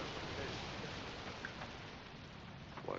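Soft, steady rainfall in the video game Alan Wake 2 hisses evenly throughout, a low constant patter with no voices.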